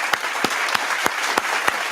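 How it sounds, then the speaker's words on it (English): Hand clapping, six evenly spaced claps at a steady, slightly slow rhythm, close and crisp with no other sound. "Hold up, I gotta give it a clap."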